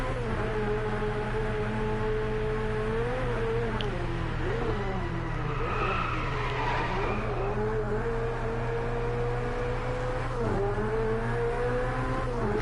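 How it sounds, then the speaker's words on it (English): Car engines drone steadily in the racing video game Driveclub, a continuous revving hum that shifts pitch as gears change, with occasional tyre squeal and whooshing passes layered over it and no talking. "I will say the engine sounds are nice, and they are all unique so far."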